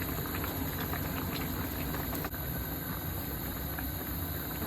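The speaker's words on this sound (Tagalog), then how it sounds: "Haluin lang natin ng konti hanggang sa maluto ang rice noodle." Rice noodles boil in a pot of soup with a dense, steady bubbling roar up close, unbroken for the whole stretch apart from a brief dip.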